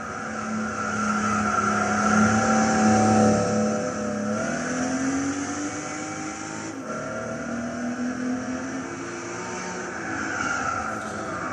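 A 1987 RUF CTR Yellow Bird racing in Gran Turismo 6 at Tsukuba, its flat-six engine droning loudly and steadily as revs climb and fall through shifts, with no voices over it.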